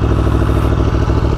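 A 2018 Aprilia Tuono motorcycle engine drones loud and close with a steady, slightly rough mechanical clatter, heard alone and without talk.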